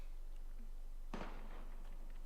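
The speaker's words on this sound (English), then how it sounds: "Gunfire!" A single sharp gunshot in the video game Valkyria Chronicles cracks out midway, then decays quickly over a quiet low hum.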